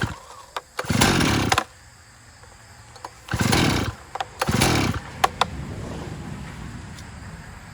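Chainsaw, used to cut an elm tree, running on half choke: three short loud revving bursts with brief lulls between, close by, then a low rough idle with a few sharp clicks.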